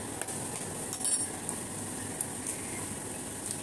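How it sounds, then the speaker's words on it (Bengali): One sharp crack of an egg against a bowl sounds amid a faint kitchen background, followed by quiet, steady room noise. "একটা ডিম ভেঙে"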